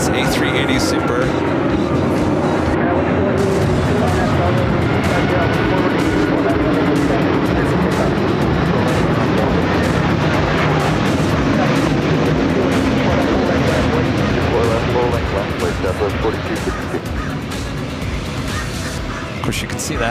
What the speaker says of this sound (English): I believe I hear the A380. Emirates A380 Super.